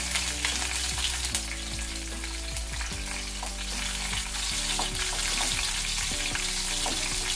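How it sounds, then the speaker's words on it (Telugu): Chopped garlic and green chillies fry in hot oil with a loud, continuous sizzle, while a spatula scrapes and taps the pan at irregular moments throughout. "సన్నగా తరిగి పెట్టుకున్న వెల్లుల్లిపాయ ముక్కలు, పచ్చిమిర్చి ముక్కలు,"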